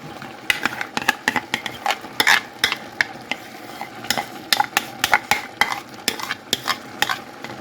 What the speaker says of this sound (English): all we have to do now is stir it and cook it until it's thickened